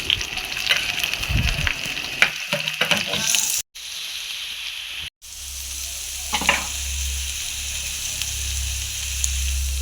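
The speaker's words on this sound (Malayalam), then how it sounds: "എണ്ണ ചൂടായതിന് ശേഷം രണ്ട് സവാള ചെറുതായി അരിഞ്ഞതും രണ്ട് പച്ചമുളക് ഇട്ട് കൊടുക്കുക" Chopped onions and green chillies fry in hot oil, a loud, steady sizzling hiss with bursts of crackle and some stirring, briefly cut off twice, then settling into a continuous close sizzle with a low hum beneath.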